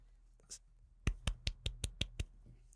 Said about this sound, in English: Give them all a golf clap right now for them.